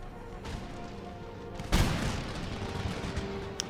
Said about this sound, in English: Fire at will as they go.